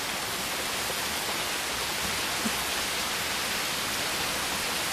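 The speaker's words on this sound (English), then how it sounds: "We just need to wait for the rain to stop." Rain falls in a 1999 anime series, a constant dense hiss that holds level the whole time with no breaks, no voices and no other sounds.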